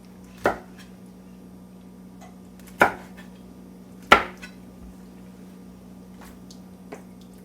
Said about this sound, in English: while the meat is simmering, I'm going to cut this into smaller pieces